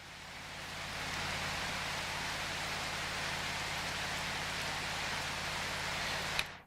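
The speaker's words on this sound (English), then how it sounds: "think the rain looks a little better." Steady rain hisses in the video game Prologue: Go Wayback!, a dense, even patter of drops on water and ground that holds at a constant level and then cuts off abruptly.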